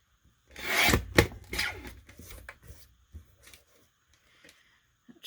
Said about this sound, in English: So I'm going to trim the picture.